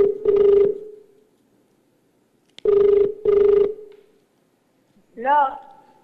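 Telephone ringback tone heard while placing a call, three separate bursts of ringing with short pauses between, followed by a voice answering.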